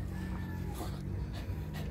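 A dog pants in quick, rhythmic breaths, close up and fairly faint, over a continuous rumbling background.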